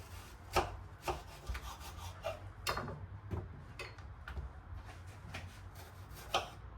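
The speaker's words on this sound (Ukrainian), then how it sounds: "І сюди нарізаю так півкольцями е, цибулю" A knife slices an onion into thin half-rings on a board, quiet crisp cuts in an irregular rhythm, heard close up with no talking.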